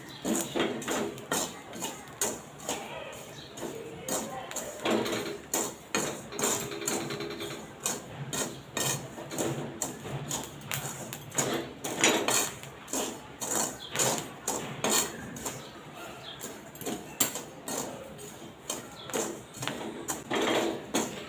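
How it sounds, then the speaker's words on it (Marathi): Peanuts stirred while roasting in hot salt in a pan over low flame, a repeated scraping, rattling grind of nuts and salt with an irregular stirring rhythm, close up and without voices. "ह्याच्यात थोडे थोडे शेंगदाणे आपण टाकूया एकदम कमी गॅसवर आपल्याला हे चालवत राहायचं आहे"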